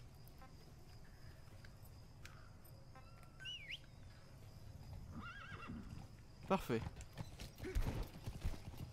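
Horse from the video game Metal Gear Solid V: The Phantom Pain, whinnying in a brief game-audio burst followed by hoof clip-clop, over steady background game ambience while someone speaks briefly.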